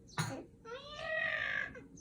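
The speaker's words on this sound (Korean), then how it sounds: "큰 고양이가 덤벼들었습니다" A large cat lunges in a bedtime story sound effect, a sharp hissing burst followed by a drawn-out, rising meow-like yowl, close and fairly clear.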